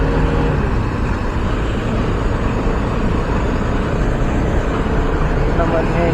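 Road traffic on Commonwealth Avenue in Metro Manila, a dense, continuous low rumble of passing vehicles and engine drone, loud and steady, with a voice talking over it.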